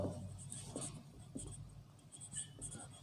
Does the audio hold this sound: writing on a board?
yes